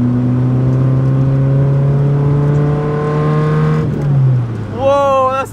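Nissan 240SX with a KA engine and blast pipes exhaust holding a loud, raspy, steady rev up close, then dropping off and climbing again in a quick burst.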